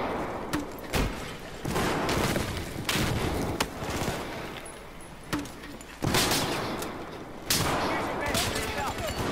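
Heavy gunfire in Battlefield 4 multiplayer, loud bursts of rifle and machine-gun shots with sudden bangs in close, irregular volleys.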